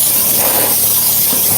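Close by, a steam cleaner at full power blasts a car's carpet in a Toyota Highlander, making a constant loud spraying hiss with slight fluctuations and no speech over it.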